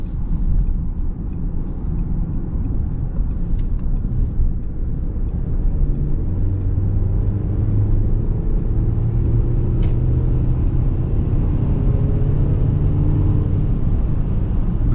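Steady engine rumble and road noise from a 2021 Mercedes-Benz GLC SUV accelerating onto a highway, a smooth continuous drone with the engine tone rising gradually, no talking.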